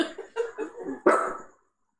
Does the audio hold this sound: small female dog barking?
yes